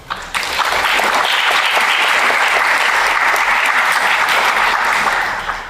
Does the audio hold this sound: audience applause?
yes